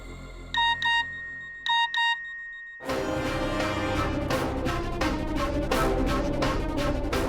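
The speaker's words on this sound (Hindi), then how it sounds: "विनी, माँ का मैसेज आया कि गेम खत्म होने वाला है, वक्त बहुत कम है।" A phone message notification tone chimes in two pairs of short, bright electronic beeps, then gives way to loud dramatic television score with rhythmic hits and no talking.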